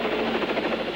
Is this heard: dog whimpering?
no